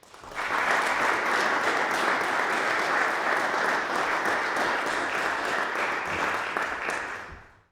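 An audience at an evening lecture bursts into sustained applause to welcome a speaker, a dense even wash of clapping that swells quickly, holds steady for several seconds and then fades.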